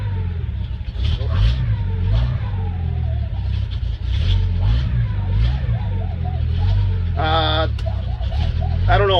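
A 1986 Ford F250 4x4 with the 4.9-liter 300 inline six runs nearby with a carburetor that won't idle down, a steady low rumble with mild rises in revs under occasional talk.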